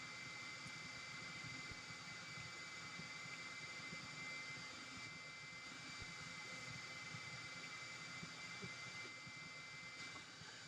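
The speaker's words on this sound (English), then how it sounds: "So the motors did its initial check at startup, and obviously the LED is working." Parrot ANAFI drone motors spin up for their initial startup check, a steady whirring motor drone with a high tonal whine that runs continuously and fairly loud, with no talking.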